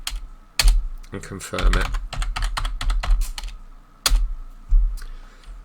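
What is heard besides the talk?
typing a password on a computer keyboard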